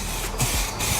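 A spray gun hisses loudly as lacquer is applied to Range Rover bodywork in a workshop, in two close continuous bursts separated by a short pause.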